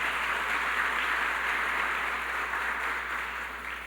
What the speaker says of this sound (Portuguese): aplauda bem forte o nome de Jesus.